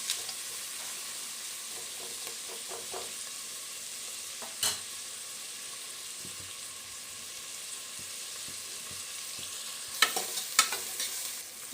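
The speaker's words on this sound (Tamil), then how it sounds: "இந்த நல்ல வெங்காயம் நல்லா வதங்கி வரட்டும்." Onions sauté in a pan for a tomato rice dish, giving a soft, steady sizzling hiss throughout, with occasional light scraping and clinking from stirring, including a short cluster of clatters near the end.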